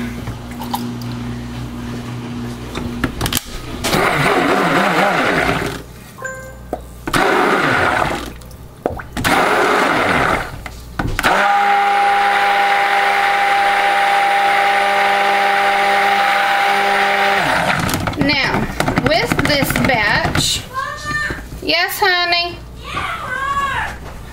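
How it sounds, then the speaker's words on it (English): A stick blender motor whirs in bursts while mixing soap, then holds a steady high whine for several seconds, with a person talking before and after it. "stick of blender needs to come over here"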